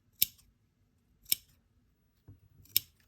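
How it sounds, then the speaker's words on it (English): Scissors snip fabric along an inside curve, three sharp close clicks spaced about a second apart, with a softer handling rustle between the last two and no talking. "So I'm going to take my scissors."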